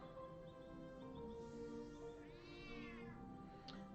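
A game cat meows a few times in the board game Patchwork & Cottage Garden, quiet and brief, over steady background music.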